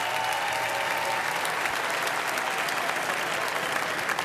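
An audience at a celebrity roast applauds loudly and steadily, dense clapping with some crowd noise mixed in throughout.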